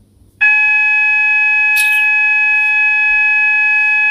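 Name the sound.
alarm going off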